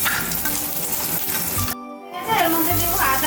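Garlic dropped into hot white oil in a wok gives a loud close sizzle, which cuts out briefly before the frying noise returns.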